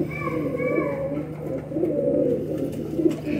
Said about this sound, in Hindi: ये मेरे चंदा खानी कबूतर है